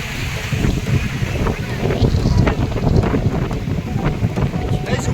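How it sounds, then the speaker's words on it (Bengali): Strong wind buffeting the microphone at a crowded Mumbai beach by the sea, a loud continuous low rumble with gusts, and a voice talking through it. "আর এত পরিমাণ হাওয়া চলছে, এত পরিমাণ বাতাস চলছে"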